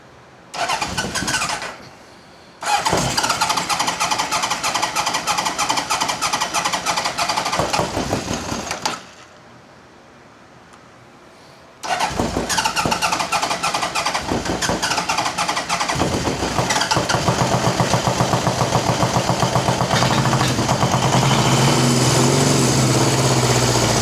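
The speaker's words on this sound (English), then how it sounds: "we are going to try again to see if we can hold this bike running" A 1977 Honda CB750K motorcycle engine cranks and catches, cuts out twice into brief quiet, then restarts and settles into a loud, steady, close-up running idle.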